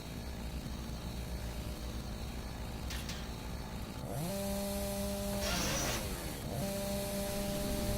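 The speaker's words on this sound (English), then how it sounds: "The beautiful sound of chainsaws running." Chainsaw engine in the video game Doom 3 idles steadily, then revs up with rising and falling whine around five and seven seconds, loud and close throughout.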